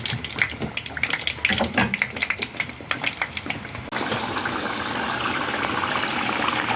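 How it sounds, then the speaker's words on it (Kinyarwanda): Potatoes frying in hot oil, spread thinly in the pan, with dense crackling and popping sizzles up close that settle into a steadier, smoother frying hiss partway through. "Iyo ushyira ibirayi mu mavuta ntabwo ubirundanya, ushyiramo bikeya bishoboka."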